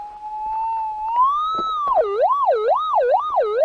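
A steady electronic metal detector tone hums, rises in pitch, then warbles up and down repeatedly in a fast, wavering pattern while far out of ground balance, fairly loud with no talk.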